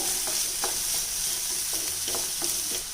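Vegetables and tomato are stirred in a sizzling pan for a foxtail millet upma, with a constant frying hiss and regular spatula scrapes repeating every half second or so. No one talks.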